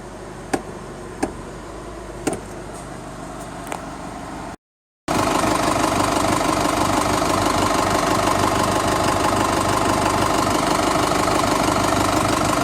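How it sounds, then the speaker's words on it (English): A car with a 6L50 automatic transmission idles steadily while its transmission fluid warms, with a few brief clicks first, then a short gap before a loud, continuous engine drone runs unbroken to the end. "we can keep the motor running now"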